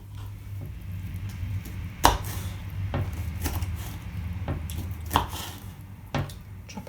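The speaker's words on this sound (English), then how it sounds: "Chop it up." A knife chops a soft cucumber on a cutting board laid over a cloth, with a few sparse, dull thuds spaced a second or more apart over a low steady background hum, close by and with no voices.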